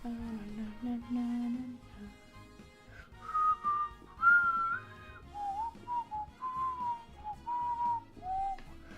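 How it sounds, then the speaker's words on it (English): A person whistles a meandering tune over soft background music while drawing Pokémon, the notes wavering and sliding, sometimes held and sometimes broken into short phrases, moderately close. "Sorry, whistling is really fucking annoying."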